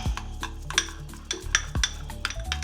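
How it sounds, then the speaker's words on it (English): Stirring a shrimp and crab salad in a bowl, with a spoon clinking and scraping against the sides in uneven strokes, close and moderately loud, alone without talk. "So I'm gonna stir this up,"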